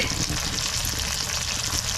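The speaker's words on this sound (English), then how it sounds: "you can see the pasta's boiling" Pasta boiling in a pot of water for a tomato, kale and fennel meal, giving a steady, dense bubbling hiss that stays constant and fairly close with no talking.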